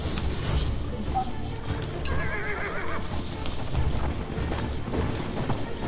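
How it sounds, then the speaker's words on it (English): Horse whinnying in the World War I shooter game Battlefield 1, a wavering neigh rising over steady hoof clip-clop and a dense layer of battle noise and low rumble. "Let me get on the horse."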